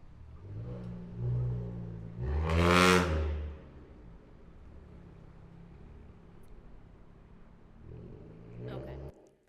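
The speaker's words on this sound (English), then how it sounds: "The red dot you'll see in the video is actually following the car making the noise." A loud car engine caught on a New York City noise-enforcement camera roars past in a rising rev that peaks briefly, then fades into a low rumble, with a second, fainter surge near the end.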